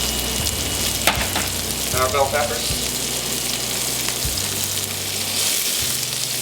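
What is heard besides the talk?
celery and bell peppers frying in a pan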